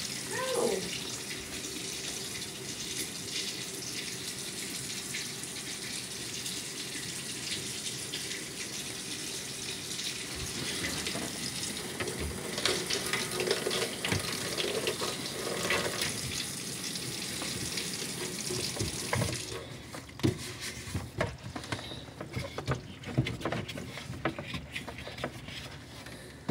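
Water runs steadily from a tap in a basement during a plumbing check, a continuous hiss with a change in texture near the end and occasional clatter.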